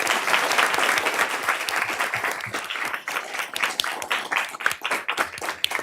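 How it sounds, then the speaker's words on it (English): Audience applause fills a township council meeting room, a dense, steady clapping that stays loud throughout and thins slightly toward the end with some scattered individual claps. "So please give them another round of applause."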